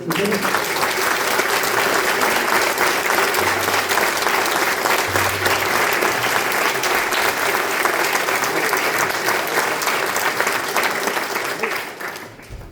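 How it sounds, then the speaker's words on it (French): A concert band audience applauds after a piece, loud, continuous clapping from a full hall that runs unbroken and then thins out near the end. "je pense qu'on peut encore les applaudir."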